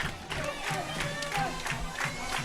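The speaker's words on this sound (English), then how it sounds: "St. Joe Prep crowd feeling it." St. Joseph's Prep high school football crowd cheers after a touchdown, a moderate rolling crowd roar with whoops and claps, somewhat distant and steady.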